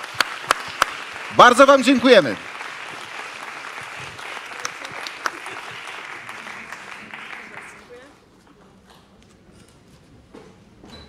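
An audience applauds at an award gala in Stary Maneż, Gdańsk: sustained clapping for several seconds that fades out near the end, with someone speaking over it briefly near the start.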